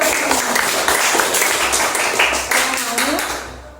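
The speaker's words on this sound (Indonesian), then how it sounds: "Ayo tepuk tangan dulu" A class claps in irregular bursts, with children's voices calling over the clapping in a classroom before it tapers off.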